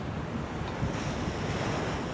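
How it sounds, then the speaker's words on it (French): Strong force 7 wind howls steadily across the open South Pacific while waves and surf roar around a sailboat, a dense, constant wash of noise with rumbling gusts against the microphone. "Là, le vent souffle assez fort."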